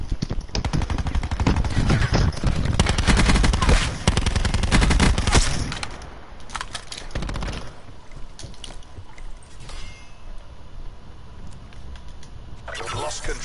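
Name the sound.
gunfire in Black Ops 4 video game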